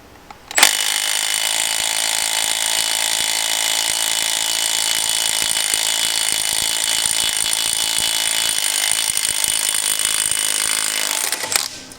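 Milwaukee M12 Stubby 1/2 inch impact wrench hammering continuously under a torque test, a loud, steady rattling burst lasting about eleven seconds before cutting off abruptly, with no talking.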